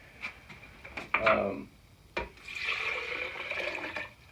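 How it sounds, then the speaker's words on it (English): Water mixed with essential oils poured into a blender, a short splashing pour at close range with a brief gurgle, then a steadier stream of liquid running in. "Pour all that into the blender there."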